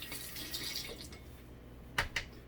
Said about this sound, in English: Obviously first you're going to rinse off the toothbrush.